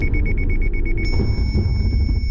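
A car's collision warning sounds as a rapid run of evenly spaced high beeps, which then merge into a continuous tone over a steady rumble from the road or cabin, with no talking.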